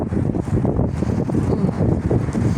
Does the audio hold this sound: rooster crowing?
no